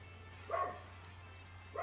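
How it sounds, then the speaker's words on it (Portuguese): A pet dog barks twice indoors, sharp mid-pitched woofs spaced about a second apart, heard fairly near over a steady low electrical hum. "Meu cachorro não para de latir por causa do cachorro do vizinho."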